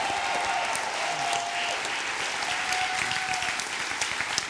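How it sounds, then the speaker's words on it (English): A church congregation claps in a full, steady round of applause, with a faint sustained tone running beneath the clapping and no clear speech. "Give them a big round of applause"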